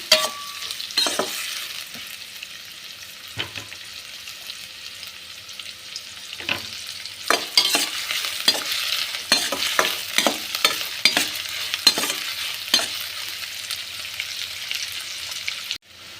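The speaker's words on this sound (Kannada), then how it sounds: "ಒಂದು ಚಿಕ್ಕದಾಗಿ ಈರುಳ್ಳಿನ ಕಟ್ ಮಾಡಿ ಹಾಕೊಳ್ಳಿ ನಂತರ ಚೆನ್ನಾಗಿ ಒಂದು ಸರಿ ಫ್ರೈ ಮಾಡ್ಕೊಳ್ಳಿ" Chopped onions with green chillies frying in a pan, a steady sizzle broken by repeated sharp scraping clicks of a spoon stirring, close and fairly loud, with no talk.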